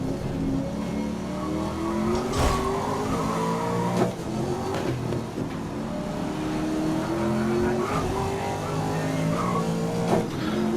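A race car in the GRID racing video game braking with its wheels locked, the engine droning and shifting in pitch while the tires skid, steady and loud without commentary.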